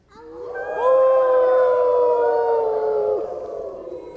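Children's voices imitate a wolf howl together, a rising then sustained group howl lasting a few seconds, loud and close.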